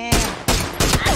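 Three loud gunshots ring out in PUBG at a steady rhythm, each a sharp, close blast with a short ringing tail.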